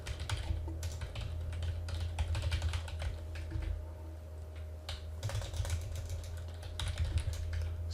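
Fast, steady keystrokes on a computer keyboard, typed in bursts with brief pauses, up close over a low constant hum from nearby equipment.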